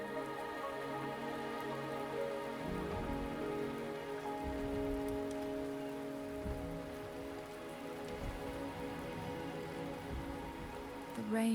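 Steady rain falling in the video game Wuthering Waves, a dense continuous patter on surfaces with scattered heavier drops, holding an even level from start to finish.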